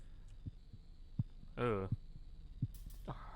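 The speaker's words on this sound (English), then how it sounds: "Heartbeat sounds creepy." Low, thudding heartbeat in a dark horror adventure game, The Cat Lady, with single beats spaced about every three quarters of a second over a steady hum; a brief groan and a short bright sting interrupt it.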